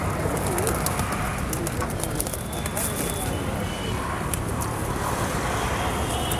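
Punjabi pigeons at a pigeon seller's stock coo softly and continuously beneath someone talking, with a busy, noisy background throughout.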